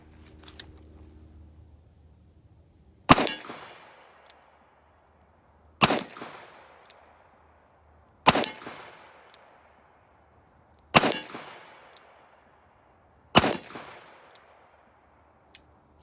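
Five sharp shots from a Smith & Wesson Model 69 Combat Magnum revolver firing HSM ammunition at a target 25 yards away, spaced a few seconds apart, each a loud crack with a ringing decay, clear of any talk.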